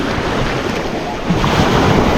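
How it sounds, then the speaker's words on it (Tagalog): Strong ocean waves surge and wash continuously, close and loud, with heavy wind buffeting the microphone and the surf building louder toward the end. "Ang lakas ng alon."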